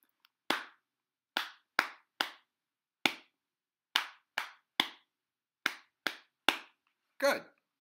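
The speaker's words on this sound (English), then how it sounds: "All right, clap them with me." Hands clap out a syllable rhythm in a lesson, about a dozen crisp, close claps in uneven groupings with short pauses between them, then one slightly longer rustling clap at the end, with no talking.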